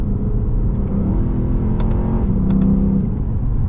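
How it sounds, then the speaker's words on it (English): A Lexus GSF sedan's engine rumbles loudly and steadily while accelerating in manual mode, with brief quick shift blips breaking the deep drone, heard close from inside the car. "The shifts are extremely quick when you put it in the manual mode."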